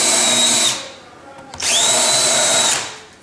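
Power drill boring a countersink into wood beside a mitre box, two loud whining bursts with a short pause between, the motor pitch dipping slightly as each cut bites, no speech.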